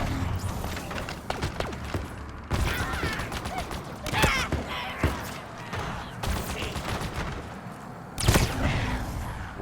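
Plasma turret fire and grenade blasts in Halo Infinite combat, a dense stream of rapid energy shots punctuated by loud booming explosions, sustained and close throughout.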